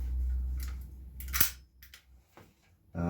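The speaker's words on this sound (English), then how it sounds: "I just use a staple gun." A staple gun fastens natural fabric to a wooden dowel, giving a few sharp, close snaps and clacks separated by quiet gaps, with no talk.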